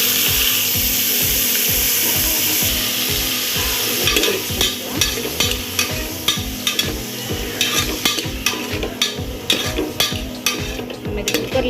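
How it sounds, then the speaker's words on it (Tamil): Chopped onion, tomato and green chili sautéing in a pan, an even sizzle at first, then a brisk series of rhythmic spatula scrapes and knocks against the pan over the frying. "ஜஸ்ட் ஒரு 1 or 2 minutes வந்து இதை வதக்கிட்டு போகிறோம்"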